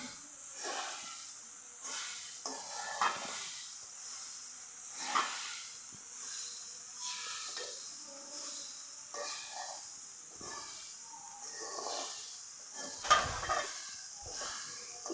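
Sesame seeds and coconut filling for kushli pitha frying in a pan, a steady soft hiss with occasional louder sizzling bursts, close and continuous.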